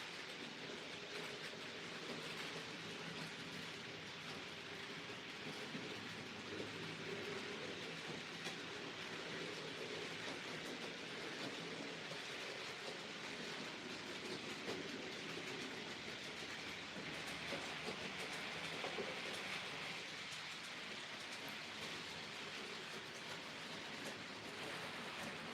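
A model railway Class 37 locomotive runs continuously along the track on a home layout, giving a steady, fairly quiet rolling rumble with faint clickety-clack and no talking.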